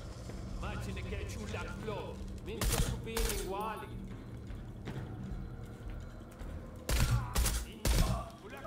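Gunfire in the video game Shadow of the Tomb Raider comes as a few loud, short bursts spaced apart, while a voice talks in between.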